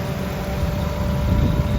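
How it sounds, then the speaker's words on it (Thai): A Toyota Altis 1.6G car engine idles steadily with a constant low rumble and a faint steady whine, nearby, with no voices. "มาครับลองสตาร์ทเครื่องยนต์กันแล้ว เดี๋ยวเรามาลองฟังเสียงเครื่องกันดูนะครับ"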